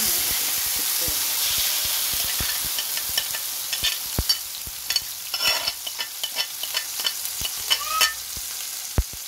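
Chicken pieces fry in hot oil for a Turkish-style chicken dish, a loud continuous hiss and sizzle dotted with sharp pops and crackles that grow more frequent, heard alone and close.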